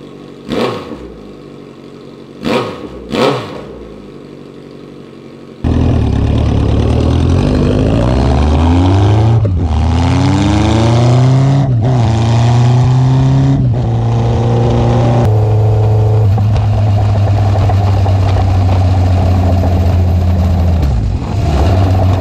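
A 2014 Honda CB1100 motorcycle with a straight pipe exhaust blips loudly a few times from idle, then roars through sustained, rising revs with deep, raspy tone, close and dominant, no voices.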